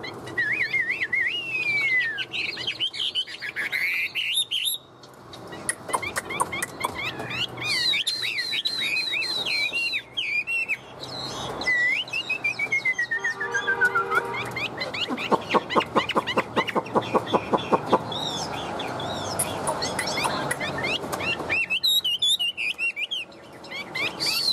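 A tame hwamei songbird sings loudly and close by, pouring out varied whistled phrases, slides and rapid trills in long continuous bursts with short pauses and no talk.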